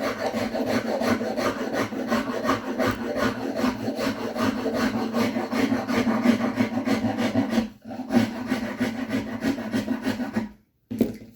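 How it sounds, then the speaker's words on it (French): A very coarse file rasps steadily back and forth across a painted wooden stick, a loud, gritty scraping with a regular stroke rhythm, close up, pausing briefly near the end. "j'ai pris une lime très grossière"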